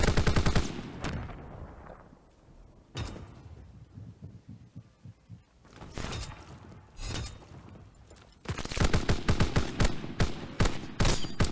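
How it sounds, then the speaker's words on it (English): Rapid gunfire crackles through a Call of Duty WWII match in a tournament semifinal, with loud dense bursts of automatic fire at the start and end and sparser shots and impacts in between. "The sniper rifle in the back lines there from Turnup as he's now reached 10 kills."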